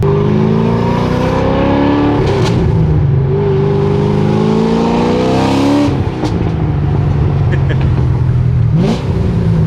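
A Corvette Z06 engine revs hard through rising gear pulls, with sharp pops between shifts and a voice talking over the close, loud drive.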